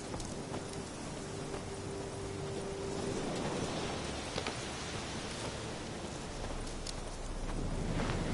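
Hoofbeats of a horse in The Witcher 3 clip-clop in a steady rhythm, mixed with a soft wash that sounds like rain. The hooves stay clear and mid-distance throughout, with no talking.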